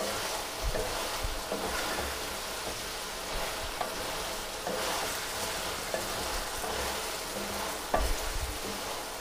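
Chicken jalfrezi frying with julienned tomato in a pan, a steady close sizzle with occasional stirring clatter against the pan, no talking over it.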